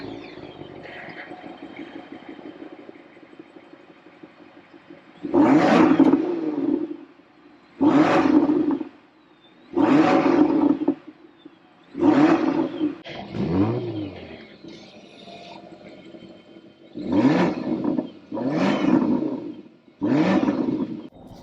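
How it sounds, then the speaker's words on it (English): A BMW X7 M60i with a quiet V8 fires up cold after a low idle hum, then gives a series of eight short, loud revs spaced a second or two apart, each dropping back to idle between them. "I'll insert a startup, basically a cold start video on this one"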